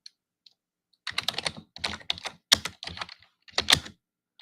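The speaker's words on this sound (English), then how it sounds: "I wonder if you guys can hear the clickety clacking." Loud clicking and clacking of a computer keyboard, fast typing in irregular bursts with short pauses, close and alone with no talk.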